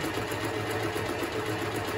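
A Privileg Super Nutzstich 5010 sewing machine runs steadily, a close, continuous fast mechanical whir with an even rhythmic stitching pulse and no talk.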